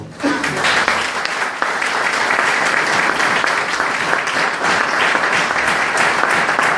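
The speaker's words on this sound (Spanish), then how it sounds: "Levanta tu mejor aplauso al Señor" Loud, sustained applause from a large church congregation, dense and steady throughout with no pauses.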